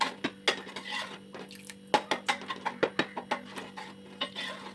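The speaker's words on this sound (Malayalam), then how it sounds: "ചവ്വരി ഇട്ടിട്ട് നല്ലതുപോലെ ഇളക്കി യോജിപ്പിച്ച് കൊടുക്കാം" A spoon scrapes and taps against a pot while sago is stirred for chickpea payasam, making a quick run of close, sharp clinks and knocks over a low steady hum.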